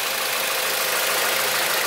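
A Ford Escape automatic with about 150,000 km on it idles under an open hood, a steady, smooth, even engine hum with no talking.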